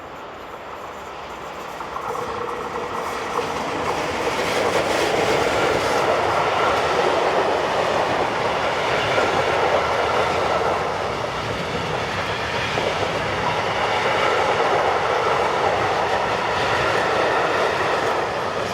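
A Swiss Re 6/6 Class 620 electric locomotive in cargo livery hauls a train past Steinsackingen on the Brugg–Basel line, a loud, steady rumble and roar of wheels and motors building in the first seconds and then holding close by throughout.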